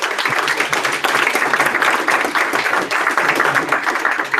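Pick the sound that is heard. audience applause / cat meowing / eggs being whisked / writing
audience applause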